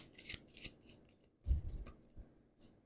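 Quiet papery riffling and soft slaps of tarot cards being shuffled close by, a few quick bursts with brief pauses between.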